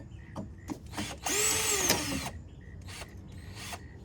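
A cordless power drill backs screws out of the convertible top trim on a fourth-generation F-body car, with a sustained whirring run in the middle of the clip framed by short clicking bursts and trigger blips, close and fairly loud.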